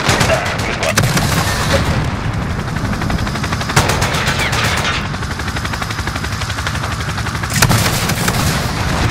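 Explosions and rapid gunfire in a Call of Duty: Modern Warfare match, with a few sharp loud blasts standing out over continuous chattering shots and a rumbling battle bed, with a voice talking faintly underneath.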